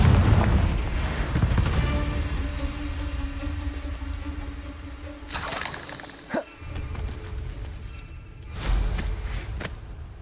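Blasting spell explosions in the Hogwarts Legacy video game, several booming bursts with shattering debris, one loud blast at the start and more rumbling impacts later, close and loud with no talk.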